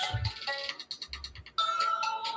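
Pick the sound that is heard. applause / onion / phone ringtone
phone ringtone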